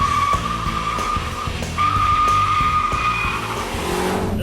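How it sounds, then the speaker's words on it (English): A modified Mazda Speed 3 with an upgraded air intake and tuning accelerates hard on a deserted back road. A loud engine roar rises and falls while the tires screech in repeated skidding bursts, close and with no talk. "we're making a beeline to the back roads, to a deserted stretch where we can see if this Speed 3 can eat some asphalt"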